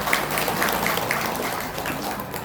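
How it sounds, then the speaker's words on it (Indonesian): Parents and audience at an elementary school forum applauding, a brief, moderately loud spatter of clapping in a reverberant room, heard without talk. "Tepuk tangan buat bapak-bapak."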